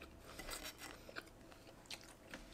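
Crunchy food, dunked before eating, is bitten and chewed up close in a quiet room, giving a string of soft, irregular crunches and mouth sounds.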